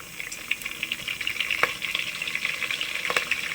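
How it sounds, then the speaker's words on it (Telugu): Onions, tomatoes and curry leaves sizzle in a pan for a Nellore fish curry. A continuous close frying hiss is broken by scattered sharp pops, with no talking. "ఇప్పుడు కరివేపాకు యాడ్ చేస్తున్నాం దీంట్లో"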